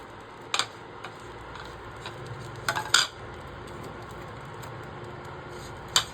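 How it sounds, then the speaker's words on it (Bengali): Egg chips tossed with egg, onion and chilli for street food, giving a few sharp clatters and taps of a container being shaken, scattered over a quiet steady background. "ভালো করে শেক করে নিতে হবে যাতে ভিতরে ডিমটা এবং যে আমাদের পুরোপুরি লঙ্কা এবং পেঁয়াজ আছে সবকটা চিপসের সঙ্গে ভালো করে মিক্স করে যায়"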